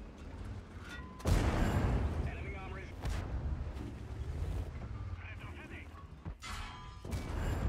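An enemy tank shell strikes the player's tank in the video game World of Tanks, a sudden loud blast followed by rumbling battle noise and wind, with faint voices in the background.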